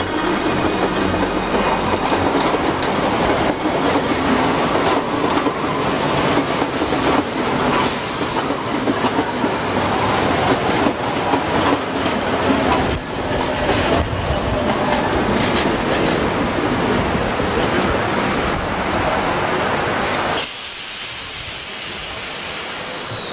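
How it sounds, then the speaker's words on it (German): An old Berlin S-Bahn train of type 277 rolls into Alexanderplatz station in January 1990, with steady rumbling wagons, rail clatter and squealing wheels throughout, ending in a sharp brake screech near the close. "Im Januar 1990 rollt ein Altbau 277 in den Bahnhof Alexanderplatz."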